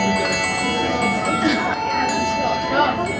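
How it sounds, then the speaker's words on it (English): Bells chime in a Disney ride queue, a steady wash of ringing tones with metallic shimmer continuing under a busy crowd murmur; voices talk nearby throughout. "There's the bells."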